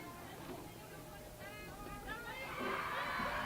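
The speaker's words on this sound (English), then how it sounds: "She's going to get a round of applause here at Viking Field." A crowd at a college softball game at Viking Field cheers and claps from a distance, faint at first and then swelling, under a commentator's voice.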